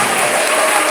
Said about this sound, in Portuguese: As palmas louvam a Jesus. Mais forte, com mais alegria.